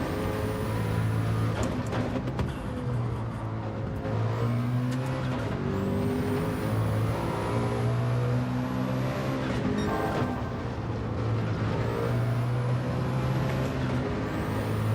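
Race car engine in Gran Turismo 7 droning loudly and steadily, with gear shifts and shifting revs, running alone without voices.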